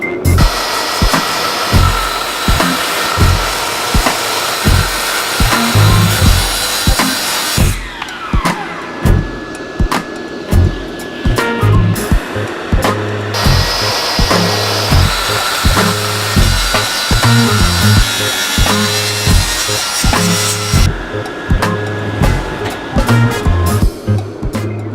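A track saw rips through ash and oak boards in long, loud, continuous cuts. The motor whine briefly drops between passes before the blade bites into the wood again.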